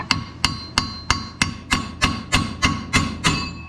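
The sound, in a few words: removing spindle from GMC Sonoma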